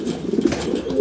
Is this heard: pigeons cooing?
yes